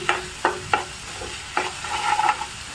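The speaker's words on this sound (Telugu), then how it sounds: "ఈ అల్లం వెల్లుల్లి పేస్ట్ కొంచెం పచ్చి స్మెల్ పోయేంత వరకు వేయించుకోవాలండి" Ginger garlic paste fries in a pan for a jackfruit seed curry, with several sharp spatula scrapes and taps over a close, moderate sizzle.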